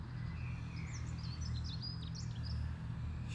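Birds chirp and call in short, scattered tweets at moderate distance outdoors, layered over a steady low rumble of traffic.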